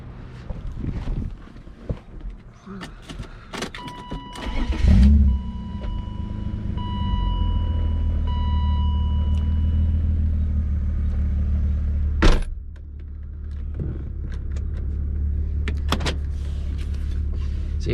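A BMW E36 M3 fitted with a lighter flywheel pulls onto the road, its engine building from a low idle into a steady, close drone with a few clicks and thumps near the start and a brief knock partway through.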